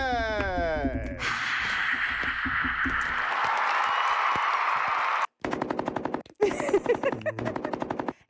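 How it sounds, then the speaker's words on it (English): A canned applause effect on a comedy podcast: a dense, loud burst of many hands clapping that lasts several seconds, with voices talking just before and after it. "There's a hand clapping thingy."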